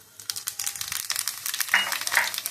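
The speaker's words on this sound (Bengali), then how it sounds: "তেলটা কিন্তু গরম হয়ে গেছে। এখন দিয়ে দেবো আমি 5 ফোড়ন" Panch phoron, the Bengali five-spice mix, crackles and sizzles as it hits hot oil, a dense close-up burst of spitting and popping that lasts a couple of seconds with no voices.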